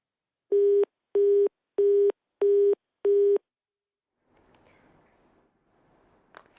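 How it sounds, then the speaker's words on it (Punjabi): A telephone busy tone after a disconnected call: five evenly spaced, loud electronic beeps, followed by faint background noise and a brief voice. "ਸਾਡੇ ਸਹਿਯੋਗੀ ਦਾ ਮੈਨੂੰ ਲੱਗਦਾ ਹੈ ਕਿ ਫੋਨ ਡਿਸਕਨੈਕਟ ਹੋ ਗਿਆ"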